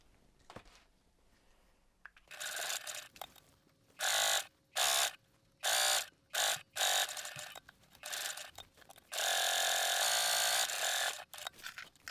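Sewing machine stitching up a seam of backpack fabric, running in several short bursts separated by pauses and then one longer steady run, loud and close with no talk.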